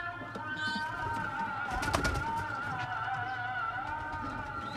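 Pigeons coo softly inside a loft where newly hatched squabs are kept, a steady low murmur that continues under a hum of background noise, with one brief louder rustle partway through.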